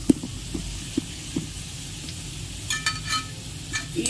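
Nalleru (veldt grape) fries in oil for karam podi, giving a steady soft sizzle with scattered clicks of stirring and a few brighter crackling bursts near the end.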